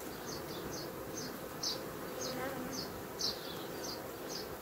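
Honey bees buzz around an open hive during a beekeeping inspection, a soft continuous drone of many insects with repeated brief higher buzzes of bees flying close past, fairly quiet overall.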